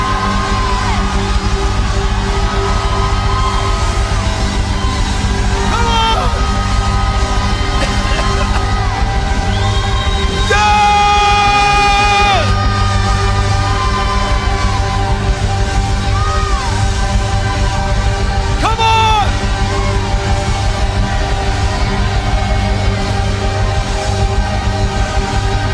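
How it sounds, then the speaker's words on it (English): A large worship crowd shouts together, a loud sustained roar of many voices, with rising whoops and yells and music beneath it that holds steady from start to finish. "raise up your voice and shout"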